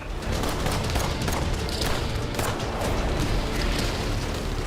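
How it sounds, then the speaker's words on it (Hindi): A loud, sustained roar of an explosion inside a building, dense rumbling with scattered sharp cracks and thuds throughout. "अचानक सामने खड़ी इस आलीशान इमारत में जोर का धमाका होता है"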